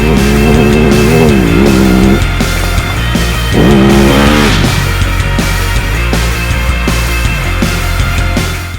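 A Husqvarna 701 rally motorcycle on Dunlop 908 rally tires rides off-road. Its loud, continuous engine note rises and falls through gear changes and revs, close and dominant throughout, with no talking.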